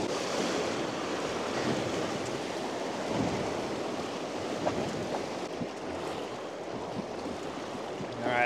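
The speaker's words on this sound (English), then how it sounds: "Rapids ahead." River rapids rush in a steady, broad roar of churning whitewater, loud and continuous throughout, with slight surges and a brief louder swell at the very end.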